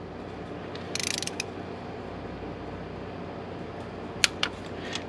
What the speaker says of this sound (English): We're just torquing the spark plug.